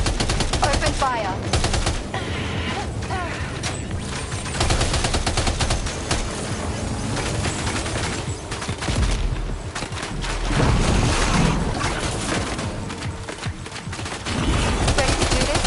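Sustained gunfire in Death Stranding 2: dense, overlapping automatic bursts and heavy shots rattle continuously with barely a pause, loud and close throughout.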